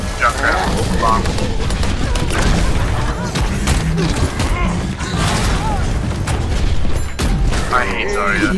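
Explosions from Junkrat's bombs in Overwatch burst in a dense, continuous barrage of booms and mechanical clatter alongside gunfire, with game voices calling out over the chaos.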